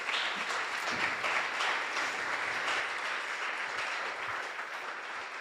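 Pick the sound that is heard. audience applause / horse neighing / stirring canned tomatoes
audience applause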